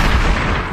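Loud, dense gunshot blast in a music beat, a broad booming burst that fills the whole short moment and stays close and heavy throughout.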